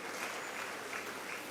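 Applause at a school award ceremony, a steady wash of clapping from a crowd, soft and somewhat distant, with no break across the short moment.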